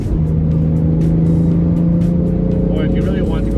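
A 2016 BMW F80 M3 in Dakar Yellow accelerates hard after a downshift, its engine note a steady, loud, rising drone heard from inside the cabin with windows closed, with someone speaking over it.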